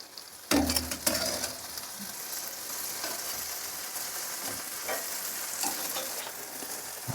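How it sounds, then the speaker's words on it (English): Vinegar, Worcestershire sauce and butter being swirled together into a barbecue mop sauce, a steady wet stirring and sizzling texture that starts with a sharp clatter and continues evenly. "a cup of vinegar and a ½ cup of Worcestershire sauce, and 2 half sticks of butter, and swirl it together"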